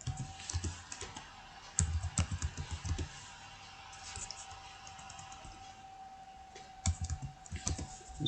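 Keys clacking on a computer keyboard in bursts of typing, close and fairly soft, with pauses between runs of keystrokes and a faint steady hum underneath.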